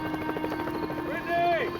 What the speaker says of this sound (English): A helicopter joined overhead.